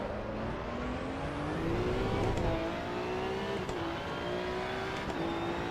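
Race car engine in the Assetto Corsa EVO racing game drones and climbs steadily in pitch through the gears, with a brief shift dip midway, loud and continuous with no talk.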